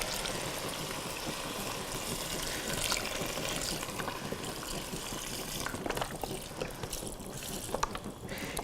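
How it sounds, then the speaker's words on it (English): Chicken stock poured into a pot of Italian lentil soup, a faint, steady liquid gush and splash with no talking. "And now we're going to pour in our chicken stock."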